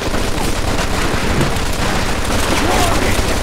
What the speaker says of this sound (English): You got a grenade, so launch it!